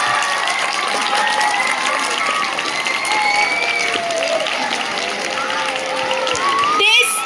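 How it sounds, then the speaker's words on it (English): A school prize distribution ceremony audience for National Science Day and Swachhata Pakhwada keeps up steady, dense applause for several seconds, with occasional cheers and voices speaking over the clapping. "ये तालियां आपके लिए है"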